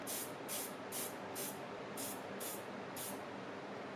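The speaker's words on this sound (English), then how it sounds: "I primed the lure with spray primer" Short, steady hisses of a spray can of primer fire in an even rhythm onto a fishing lure, seven quick bursts over a continuous background hiss.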